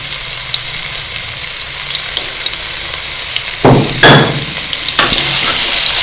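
Ginger garlic paste fries in hot oil with cumin seeds, a loud continuous sizzle broken by a few sharp bursts of crackling as the paste is stirred in the pan.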